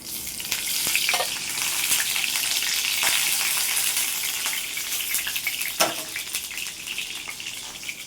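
Raw banana pieces fry in oil in a kadai with a steady, close, hissing sizzle throughout, broken now and then by a faint clink or stir. No one speaks.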